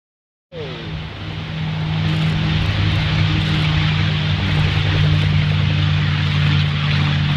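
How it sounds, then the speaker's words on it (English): A Baby Luke airplane with a Whirlwind propeller and custom Lycoming engine roars up abruptly after a brief silence in Dayton, settling into a loud, steady propeller drone with a deep throbbing hum. "The Baby Luke now to 100 as he depends on that whirlwind propeller and the Lycon custom engines"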